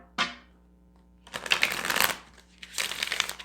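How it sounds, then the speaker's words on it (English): Tarot cards being shuffled by hand in a few close, crisp bursts of riffling and sliding, with short pauses between them and no talking. "One more shuffle"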